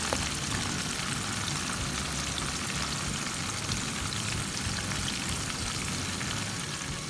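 Nasi goreng, Indonesian fried rice cooked with belacan, frying in a pan, giving a steady, close, even sizzle and crackle that holds at one level throughout, with no talking.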